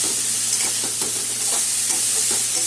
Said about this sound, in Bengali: ভাত করাটা কাঁকরোলটা মোটামুটি ভাজা হয়ে গেছে।